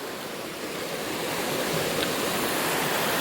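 A river flowing in the dark, a steady broadband rush of water gurgling continuously at close range with no voices.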